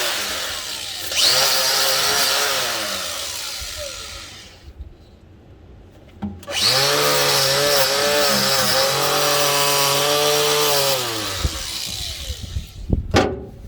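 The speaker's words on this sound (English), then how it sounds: "I might take my grinder here and see if I can clean it." An angle grinder scours corrosion off a 65-year-old Detroit crawler, running in two loud, close bursts of harsh whining abrasion separated by a short pause, with a few clanks at the end.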